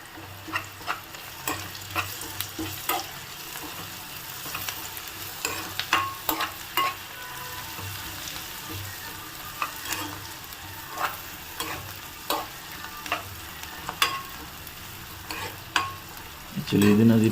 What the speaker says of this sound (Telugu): చిటికెడు పసుపు వేసి కలపండి బాగా.